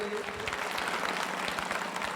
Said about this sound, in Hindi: कृपया जोरदार तालियां